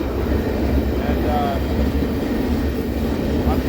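Steady low rumble of an intermodal freight train heard from on board while riding between Kansas City and Shreveport, a continuous rolling drone with faint squeals over it.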